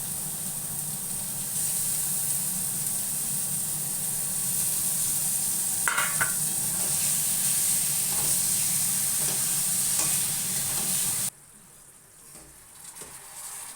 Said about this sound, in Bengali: মশলাটা কষানো হয়ে গেছে, এবার মাছগুলো দিয়ে দেবো।